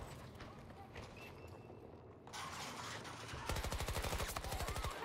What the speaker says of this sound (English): That was me shooting him.